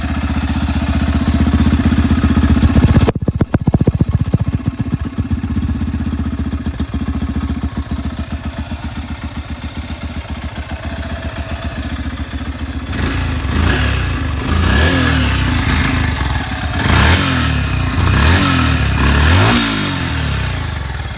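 A 2024 Yamaha FZ-S V3 Deluxe motorcycle idles steadily up close, then its engine is blipped in a series of sharp revs that rise and fall over the last several seconds.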